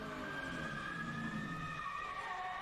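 Clint Bowyer's NASCAR race car heard onboard during 2009 practice or qualifying: a loud, steady engine drone with whining harmonic tones that drift in pitch, filling the whole stretch without voices.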